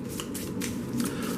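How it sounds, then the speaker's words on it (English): A deck of game cards being shuffled for a Thunderstone Quest solo setup, a close, steady papery riffle that rustles on for over a second without anyone speaking. "So we will shuffle this up."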